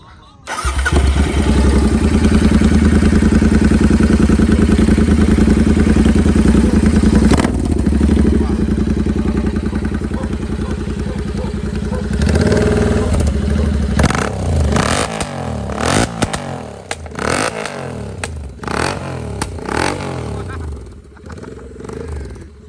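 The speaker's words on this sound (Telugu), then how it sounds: "ఎగ్జాస్ట్ అయితే మనం స్టార్ట్ చేసి వింటాము." A Royal Enfield GT 650 motorcycle fitted with a Thailand aftermarket exhaust starts up and runs with a loud, steady, throaty rumble close by, then gives a series of sharp blips and revs toward the end while people talk nearby.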